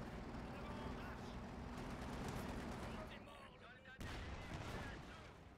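Battlefield gunfire in the strategy game Company of Heroes 2, a dense, faint rattle of distant shots and rumbling blasts running continuously, with a voice speaking over it and one sharper crack partway through.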